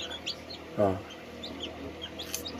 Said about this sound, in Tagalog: Ito ang ating manok na Brahma.